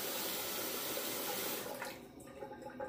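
Water runs and splashes as a synthetic G4-knot shaving brush is wetted in a Timeless Razor shaving bowl: a loud steady gush for about a second and a half, then it cuts off, leaving faint dripping and small splashes.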